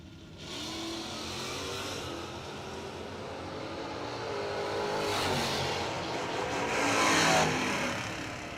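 Drag race cars, a Plymouth Barracuda against a Ford Mustang, roar off the line at a bracket race, a broad sustained engine blast that swells louder toward the end with no talking.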